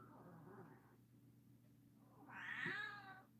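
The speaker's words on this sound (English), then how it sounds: "Listen to that cat." A cat meows twice indoors, a softer call followed by a louder, drawn-out meow, with no talk over it.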